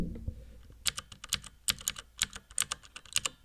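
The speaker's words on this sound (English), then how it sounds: "bought a mechanical keyboard, because I type a lot." Someone types on a custom mechanical keyboard at close range, producing quick, sharp key clacks in irregular bursts with short gaps between them, heard alone.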